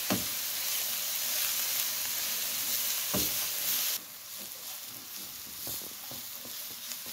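Cabbage frying with salt in an oiled pan gives a steady close sizzle with stirring scrapes, and the sound drops a little partway through.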